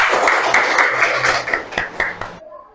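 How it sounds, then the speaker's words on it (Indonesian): Students in an Islamic history classroom clapping together, a dense burst of hand claps that thins into a few scattered, sharper claps before stopping abruptly, close and fairly loud. "Tepuk tangan untuk kalian semua"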